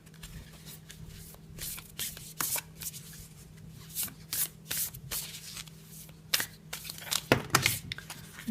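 Tarot cards shuffled by hand in a series of close, papery riffles and rubs that grow denser and louder toward the end as part of the pile spills out.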